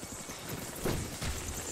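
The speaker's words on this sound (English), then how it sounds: "Let me go and call my horse." Horse hooves clip-clopping in Zelda: Breath of the Wild, a few soft thuds out on Hyrule Ridge, heard low and muffled against a steady background wash.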